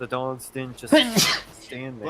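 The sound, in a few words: sneeze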